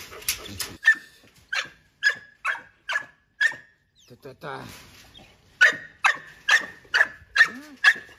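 Four-month-old Canary Mastiff puppies bark loudly and close in sharp, evenly spaced bursts, pausing briefly midway before a fresh run of barks, with someone speaking over them.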